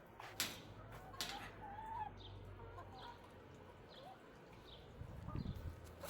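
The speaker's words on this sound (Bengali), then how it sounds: "মুরগি অনেকগুলা, সারা যে এডিছে দিছে মুরগি" Scattered clucks and short calls from a flock of chickens, roosters and native hens, moderately close and fairly faint, with brief louder bursts and some background noise.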